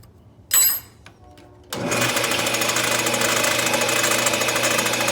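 A metal lathe runs close by, chamfering a copper bead: after a brief whir and a pause, the machine starts up and holds a steady, loud mechanical hum with rapid rattling vibration.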